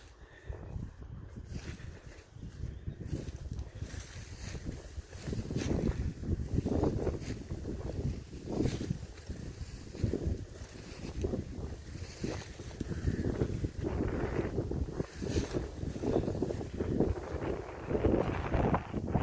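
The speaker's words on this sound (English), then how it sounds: "Sorry for the wind." Steady wind buffets the microphone throughout on a muddy disused railway walk, a constant low rumble with gusty surges, loud and close.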